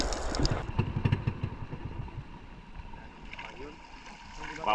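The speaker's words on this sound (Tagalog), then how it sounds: "yung makina namin papatay-patay na" A small fishing boat's engine heading home at night after spearfishing, running unevenly and threatening to stall, with an irregular low chugging throughout and people talking over it.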